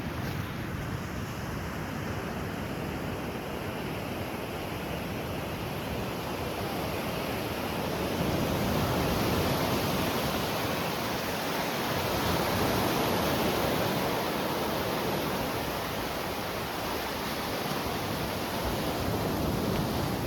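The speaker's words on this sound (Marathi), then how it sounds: "भारी वाटते पाण्यातून वॉक करायला, शांतता आहे, समुद्राचा आवाज, खळखळणारा समुद्र" Sea waves wash steadily onto a Goa beach, a continuous broad roar of surf blended with wind rushing over the microphone, with no voices.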